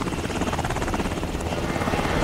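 Helicopter rotor chopping steadily and loudly in the video game Dead Rising 2, a dense rhythmic thumping with a whining engine that stays close and unbroken throughout.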